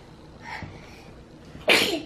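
A child sneezes once, a sharp and close burst near the end, after a softer breathy sound earlier on.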